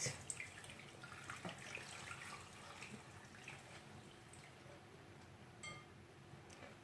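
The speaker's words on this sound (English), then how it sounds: "We're gonna add some warm water and we'll set it aside." Warm water runs steadily from a tap onto fish in a container, a continuous splashing hiss with a few faint clicks and drips, no voices.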